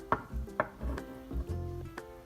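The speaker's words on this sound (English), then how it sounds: "I just cut some green onions" Green onions chopped with a knife on a board, a handful of sharp, close thuds spaced unevenly, then a brief lighter scrape, quiet with no talk.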